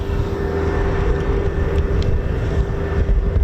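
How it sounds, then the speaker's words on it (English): RAF Eurofighter Typhoon FGR4 jets approach a training and QRA station, heard as a broad, continuous distant jet roar with a steady whine and gusty wind noise, no talking. "we got Typhoons just coming in now"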